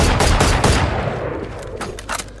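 Rapid automatic gunfire from a weapon in the shooter game Valorant, loud dense bursts of shots packed into the first second and then thinning to scattered sharper cracks, with no talking.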